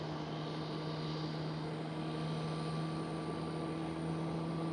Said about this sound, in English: There is engine number 1 starting up for the top A321neo.